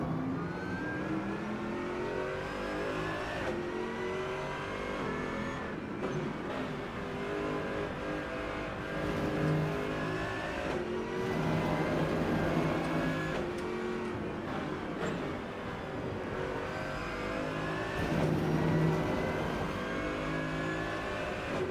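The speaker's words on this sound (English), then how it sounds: "I kind of like the way this AMG sounds" Mercedes-AMG race car in the Rennsport racing game, its engine droning loudly and steadily throughout, rising and falling as it revs and shifts, with no talking.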